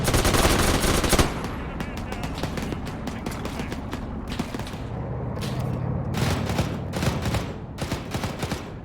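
Rapid automatic gunfire and scattered shots rattle from a military video game as units assault a vehicle depot, with dense bursts at first, then clustered volleys of varying loudness and occasional voice chatter.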